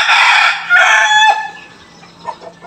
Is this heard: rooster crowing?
yes